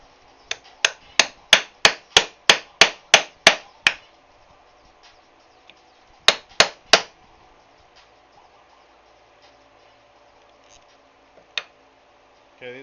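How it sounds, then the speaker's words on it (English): Hammer striking a punch through a leather knife sheath to make rivet holes: a fast run of about ten sharp, evenly spaced taps, then a pause and three more blows, close and crisp in an otherwise quiet room with no talk. "So I'm gonna punch holes for rivets and for this string, leather cord"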